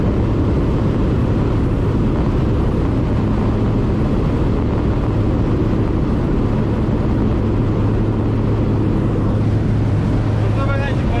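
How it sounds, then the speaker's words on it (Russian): Loud, steady low roar of an airplane's jet engine during takeoff, running throughout, a broad rumble with a faint hum on top, close and continuous. "тут просто взлет самолета"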